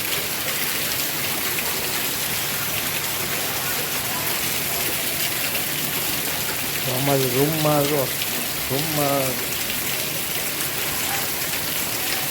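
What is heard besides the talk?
heavy monsoon rain pouring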